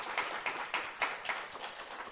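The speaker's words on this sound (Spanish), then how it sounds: "A ver si damos un aplauso a todos." A church congregation applauding together, a steady wash of many hands clapping with periodic swells, moderately distant and fairly soft, no voices over it.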